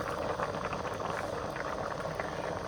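A pot of German potato sausage soup bubbles on the stove with a dense, steady bubbling and rumble that holds at an even level throughout, with no voices.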